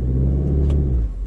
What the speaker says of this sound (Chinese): 发动机这个自身的憋转速的范围还是比较高的，基本上能接近到两千两百转